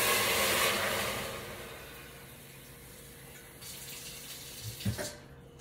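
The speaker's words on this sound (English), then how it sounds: "I like to add a little bit water in my pot" Tap water runs into a cooking pot in a home kitchen, a rushing splash that is loudest at first, then tapers and stops, ending in a few small knocks.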